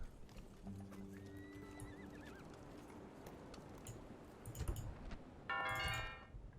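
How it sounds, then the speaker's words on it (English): Horse neighs and whinnies, then hooves clip-clop in Rome: Total War, a game sound effect, moderately loud with a bright jingle near the end and no talk. "Trusty steed."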